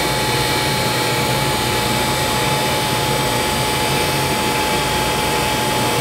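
Cutter grinder grinding rigid ceramic prototyping material, a loud continuous whining roar with a steady high tone and no pauses, no voices over it.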